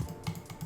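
A computer keyboard spacebar pressed on a gaming setup, a few quick soft clacks in succession, close and fairly quiet.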